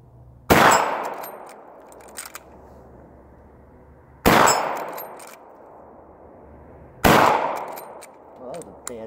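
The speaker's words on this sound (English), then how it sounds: "I'm just going to thumb a few in here and shoot the plate so you guys can see that these work." Three loud, evenly spaced rifle shots from a Marlin lever-action aimed at a steel plate about 50 yards off, each a sharp crack followed by a ringing metallic clang that slowly decays.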